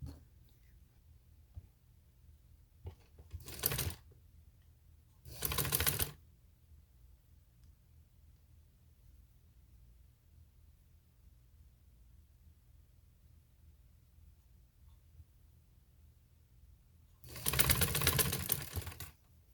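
A sewing machine stitches a fabric strip onto a summer dress neckline in short loud whirring bursts, two close together and a longer one after a long quiet gap, with no voices.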